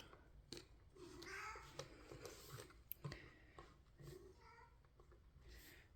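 A domestic cat meowing indoors near a repair bench, several drawn-out, wavering meows with soft clicks and handling noises between them, quiet and close, with no talking.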